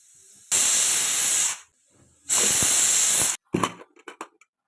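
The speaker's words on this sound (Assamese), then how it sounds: "জোখমতে পানী দি এতিয়া কুকাৰৰ ঢাকন লগাই 3টা চিটি অহালৈ বাট চাম।" A pressure cooker cooking chicken pulao lets out two loud, sustained hissing bursts of steam, close by, then a few short sputtering puffs as it settles.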